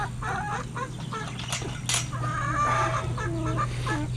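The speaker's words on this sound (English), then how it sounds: "There's a lot of roosters running around in here." Roosters and hens cluck and squawk inside a chicken coop, with several birds calling close by over a constant low hum.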